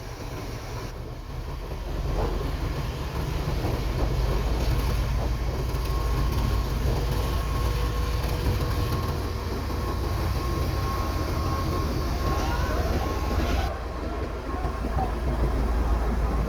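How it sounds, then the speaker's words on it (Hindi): The 17 Up Millat Express departs Hyderabad Junction railway station on a busy platform, giving a loud, steady low rumble that swells after the first couple of seconds and carries on throughout, with faint voices mixed in. "सेकंड डिपार्चर विसल के साथ 17 अब मिलत एक्सप्रेस मूव हो गई हैदराबाद जंक्शन रेलवे स्टेशन से"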